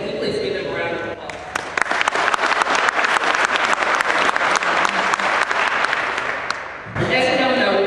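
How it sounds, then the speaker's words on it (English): Audience applause at a Martin Luther King Jr. celebration honoring the We Care Committee, a loud sustained burst of clapping lasting several seconds, with a voice speaking briefly before and after it. "Can we please give them a round of applause?"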